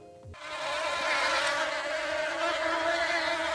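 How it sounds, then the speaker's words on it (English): Bees buzz in the Minecraft video game, a steady droning hum that starts suddenly after a brief click and continues evenly, fairly close and alone without talk. "This update also added bee nests, bee hives, honeycomb"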